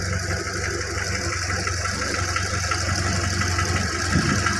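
The original engine of a 1982 Suzuki Jimny runs steadily at idle, a close, even rumble with a faint knocking texture and no voices over it.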